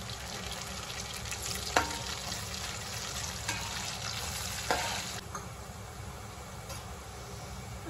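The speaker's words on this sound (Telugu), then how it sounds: "ఆనియన్స్ కొంచెం వేగాలి." Onions fry quietly in a pan for chicken biryani, a soft continuous sizzle with a few brief clinks of stirring, fairly faint and without speech.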